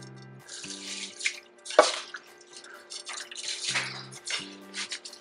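Washed rice pours into a pot with shrimp-rice cooking liquid, giving wet splashes and drips in short bursts, close and fairly quiet, with some tonal beeps in the background.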